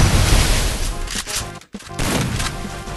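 Repeated blasts from a large trumpet-style shotgun in a video game, loud dense firing bursts with a brief gap before more shots.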